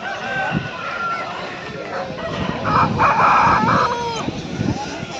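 A red rooster weighing about three kilograms crows loudly and close at a Sunday chicken market in Pileru, one long drawn-out call over background clucking and market chatter.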